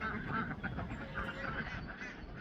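Farmyard ducks quack in a steady, overlapping chorus near a duck pen, loud and continuous throughout with no pauses.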